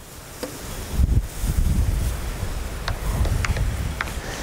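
Gusty wind buffets and rumbles across the microphone on a riverbank while fishing on the River Yare, with light rustling and occasional small clicks outdoors.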